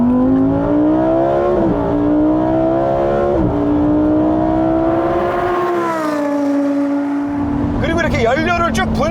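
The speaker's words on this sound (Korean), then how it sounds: "연료를 쭉 분사하면서 올라가는 고RPM에서의 사운드뿐만 아니라 다운시프트 때 듣는 이 고RPM에서의 사운드도 정말 일품인데" A Lamborghini Huracan EVO engine revs hard at high RPM, a loud, close, sustained howl that climbs in pitch in stages and briefly dips, with a voice talking near the end.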